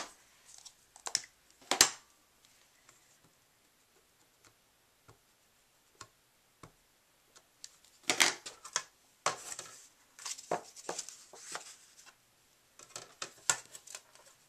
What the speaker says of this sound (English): let me grab my Fiskars stamp press, and I think I'm just going to go ahead and stamp it with just black ink